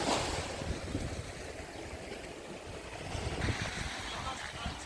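Sea wind and surf on a beach in Odesa, a steady rushing wash of waves with gusty wind buffeting the microphone, faint and continuous.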